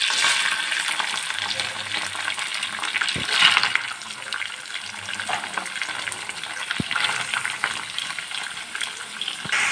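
Onions, green chillies and curry leaves sizzle and crackle in hot oil, a steady bright frying hiss with a couple of sharp clicks as they are stirred, close and without talk.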